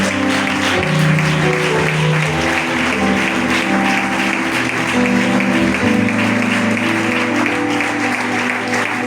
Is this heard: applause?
yes